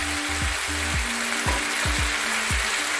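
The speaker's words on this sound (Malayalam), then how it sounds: "ഇതിലോട്ട് നമ്മൾ വറുത്ത് വെച്ചിരുന്ന നമ്മുടെ ചിക്കൻ കൂടി ഇട്ട് കൊടുക്കാം." Fried chicken pieces tossed into a pan of sizzling chilli sauce for restaurant-style chilli chicken, a steady broadband hiss of frying punctuated by repeated low thuds and scrapes of stirring, close and continuous with no talk.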